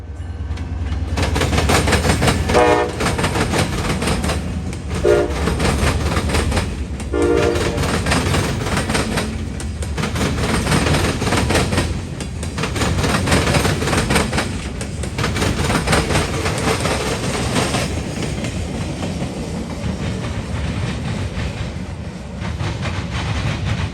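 A freight train, Y121, rumbles past with a Conrail caboose on the end in Marion, Ohio, its horn sounding several loud blasts early on over a steady, close roar of wheels and cars that carries on to the end.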